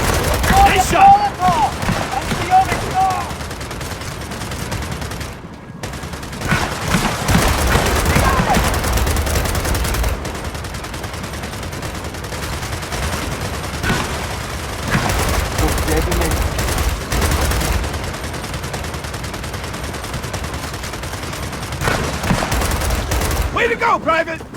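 Rapid bursts of automatic gunfire and explosions from the video game Gears of War 4 crackle in dense volleys with short pauses, while voices shout over the combat.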